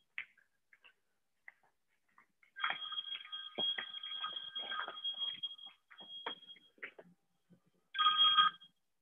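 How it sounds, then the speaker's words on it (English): A phone rings in bursts of electronic trilling tones, close and clear, with short quiet gaps and a final burst after a pause. "Sorry, my phone is ringing."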